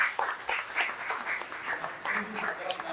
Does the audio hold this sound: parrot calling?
no